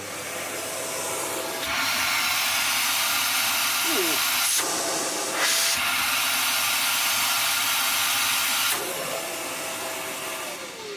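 A Hoover HL4 bagless upright vacuum runs on max suction, a loud steady broadband roar with a brief dip and surge midway, then the pitch drops slightly near the end as the motor eases.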